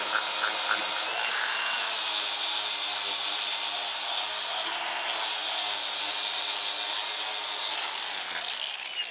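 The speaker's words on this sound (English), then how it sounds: "Then I've got a Scotch-Brite on this angle grinder here." An angle grinder fitted with a Scotch-Brite pad scrubs oil and grease off metal parts of a long-neglected Caterpillar dozer, giving a steady, loud, continuous whirring abrasion with no talk.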